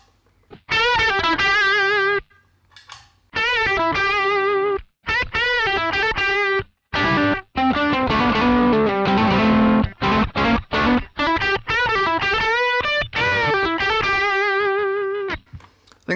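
Electric guitar played through a Sonicake Tone Group EQ pedal with the highs rolled off, distorted chords and riffs ringing in short bursts separated by brief pauses, loud and close.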